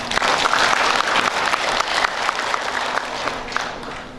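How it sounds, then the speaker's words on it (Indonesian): A crowd at a political party anniversary gathering breaks into loud, sustained applause, a thick, fast patter of many hands close by that fades slightly toward the end. "Tepuk tangan lah."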